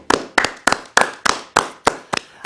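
Eight sharp hand claps in an even, quick rhythm, close and dry, heard alone during a live K-pop radio show.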